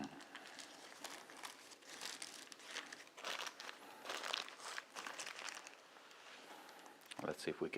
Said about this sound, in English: So we'll try to gently pull the paper down.